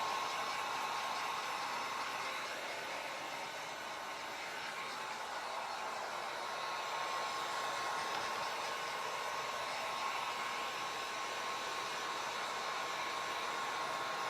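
A hair dryer blows steadily on fresh paint coating an old mirror being turned into a magnetic chalkboard, a close, continuous airy roar that holds level for the whole stretch with no talking.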